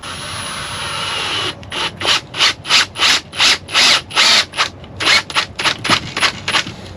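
Cordless battery-powered tool working on a small wooden shack, starting with a steady whir and then breaking into a series of loud, regular ratcheting bursts, about a dozen in quick rhythm, with no talk.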